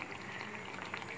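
Tomato-based paneer gravy boiling steadily in a pan, a continuous close bubbling and popping with no talk over it.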